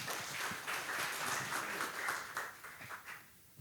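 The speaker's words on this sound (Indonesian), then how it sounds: "Mari kita berikan tepuk tangan." Church congregation applauding during a Sunday worship service, a steady wash of clapping from many hands that thins and fades toward the end, no voices over it.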